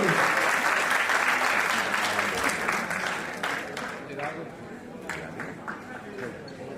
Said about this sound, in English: Please give a huge round of applause for this first announcement